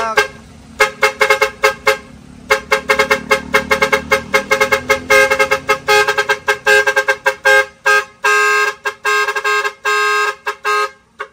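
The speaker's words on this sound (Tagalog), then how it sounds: "nagkabit din tayo ng horn module dyan" A 12-channel musical car horn module blares a rapid tune of short, tonal toots, playing melody after melody loudly and close, with brief pauses between phrases.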